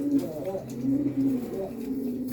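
A male pigeon coos close by in soft, rolling, low-pitched phrases repeated through the moment, with faint background noise and no clear talk.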